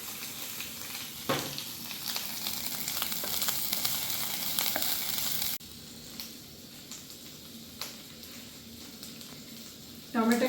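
Green chilli frying in a hot pan, a steady sizzle that is louder in the first half, then quieter with a few stirring clatters, under a voice.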